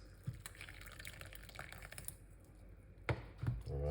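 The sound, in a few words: pouring steeped lemon water out of a pot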